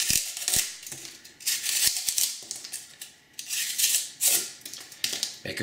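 A sharpened knife edge slices repeatedly into corrugated cardboard, giving bursts of dry, scraping crunches and sharp clicks that come in uneven strokes, close and fairly loud, with no talking.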